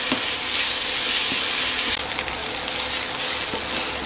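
Grated beetroot is stir-fried in a pan for fried rice, giving a steady close sizzle with faint scraping stirs, heard alone without talk.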